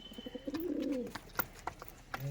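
Giribaz pigeons cooing nearby, soft warbling coos with a rising and falling tone, mixed with a few faint clicks and taps, quiet and close.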